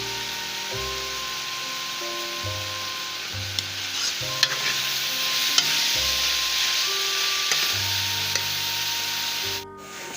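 Green beans (moongre) and potatoes fry steadily in hot oil toward golden, a continuous close sizzle with occasional stirring scrapes and clinks throughout.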